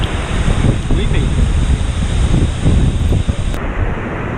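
Rushing waterfall beside a natural hot spring in Yellowstone's Bechler Canyon, a loud, steady broadband roar that fills the whole clip outdoors, with wind buffeting the microphone.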